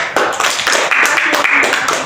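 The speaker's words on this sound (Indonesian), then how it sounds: "Kasih tepuk tangan." A classroom of pupils in an Indonesian micro-teaching lesson clapping together, a short, loud, steady patter of hands with some voices under it.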